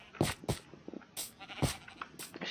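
Sheep in the Minecraft video game bleat in several short, nasal calls spaced unevenly over a couple of seconds, quiet and clear with no talk.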